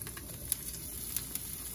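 Scallions frying in a little oil in a wok make a steady soft sizzle, close and fairly quiet, with a few faint sharp crackles and no talking.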